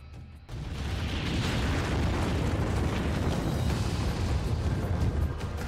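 Explosions in war footage from Ukraine: a sudden heavy blast that swells into a sustained, roaring rumble of debris and fire, loud and unbroken for several seconds.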